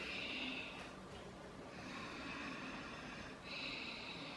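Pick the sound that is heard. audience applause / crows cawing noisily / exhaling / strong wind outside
exhaling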